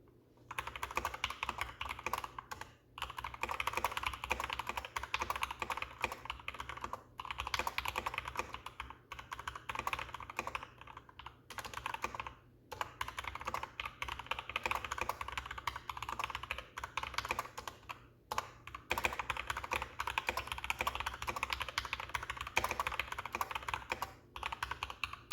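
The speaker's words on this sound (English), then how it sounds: "I'll give you a quick sound test. The model that I'm typing on here today has the Gateron red switches." Continuous typing on a Symfuhny x Matrix 65% mechanical keyboard fitted with Gateron red switches, soft, quick keystrokes in uneven bursts with short pauses, heard close and alone for about twenty-five seconds.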